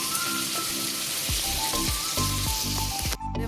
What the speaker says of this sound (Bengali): আর এদিকে এই যে পেঁয়াজ কাঁচা লঙ্কা ভাজছি।